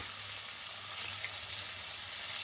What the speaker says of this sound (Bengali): এবার মাছগুলো এপিট ওপিট করে হালকা ভেজে তুলে রাখছি।